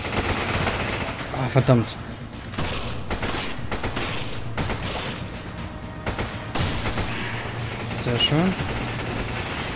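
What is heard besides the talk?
gunfire from the video game Resident Evil 5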